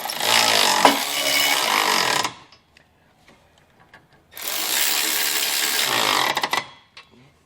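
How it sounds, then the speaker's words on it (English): Two loud bursts of a power impact tool driving a 3/4 inch socket to snug down Curt trailer hitch bolts on a 2019 Chrysler Pacifica, each about two seconds long, split by a short quiet gap with small clinks. "we're going to go ahead with a 3/4 inch socket and get these snug down"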